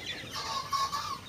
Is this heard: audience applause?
no